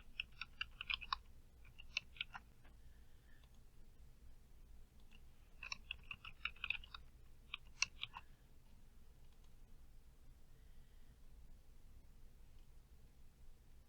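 Someone types a password on a computer keyboard, producing two short clusters of quick, crisp key clicks close by, separated by a quiet stretch with a low hum underneath.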